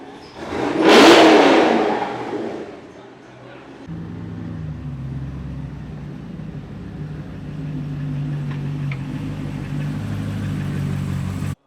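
A loud rev from a Chevrolet LT4 supercharged 6.2-litre V8 bursts up early, then settles into a steady low idling rumble that drones on to the end.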